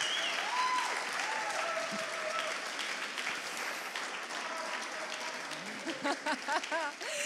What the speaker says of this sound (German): Das ist dein Applaus, Thomas